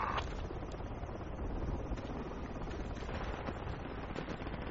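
Distant gunfire in a military shooter game, rattling automatic bursts from the northeast near an armored personnel carrier, forming a continuous low rumbling clatter with no speech.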